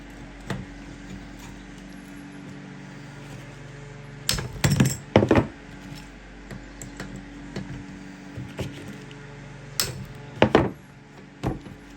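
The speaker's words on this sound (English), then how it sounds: "I've been beating wrenches with hammers for 60 years" A hammer strikes a wrench to break a stuck fitting loose, sending a few sharp metallic clanks in two short clusters, close and fairly loud, with quiet shop ambience between the blows.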